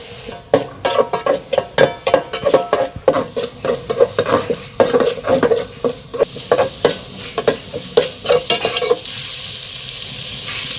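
Tomato and garlic sautéing in a pan for chicken curry, loud rhythmic stirring with spoon scrapes and clinks over a constant sizzle, easing to a softer fry near the end, no talking.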